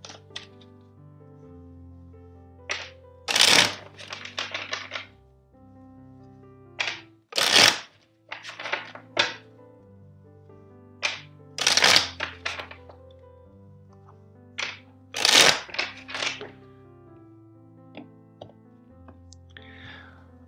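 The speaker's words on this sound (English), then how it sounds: "First, I will shuffle the deck four times." A tarot deck is shuffled by hand in a quiet room, giving several separate bursts of riffling and flicking cards with short pauses and soft taps between them, close and fairly loud.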